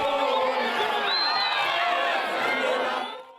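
A crowd of about a thousand people gathering at a new political party's rally in Pretoria, a loud, festive mass of overlapping voices and cheering that holds steady, then fades out at the end.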